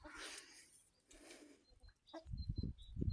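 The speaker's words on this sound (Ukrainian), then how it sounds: "Буду заганяти курей" A few soft clucks from chickens being herded in a village, followed by loud close rustling and thumping movement near the microphone.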